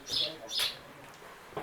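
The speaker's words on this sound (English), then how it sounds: "You can hear them chirping." Two short, high bird chirps sound close together on the North Sea coast of North East England, followed by a faint third call, fairly quiet against a soft background.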